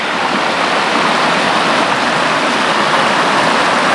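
Steady rushing water of Reed's Creek flows continuously in old goldfields near Woolshed Falls, a full, broadband wash like a creek tumbling over rocks, close by with no voices.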